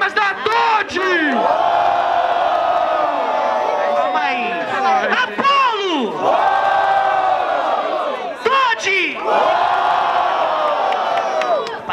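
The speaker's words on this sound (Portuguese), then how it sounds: "Barulhos, barulhos pra quem gostou das rimas da Todd!" A crowd at a student rap battle in Guarulhos roars with loud, sustained cheering, whoops and shouts, swelling in waves across the whole stretch with brief dips between bursts.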